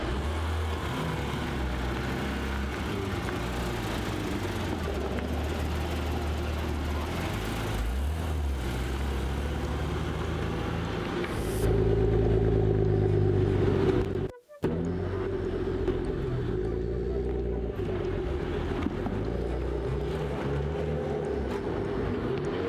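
A Mercedes-AMG GT S sports car engine rumbles continuously with a deep, throaty idle, briefly swelling louder before a sharp cut, then settling back into a steady low drone.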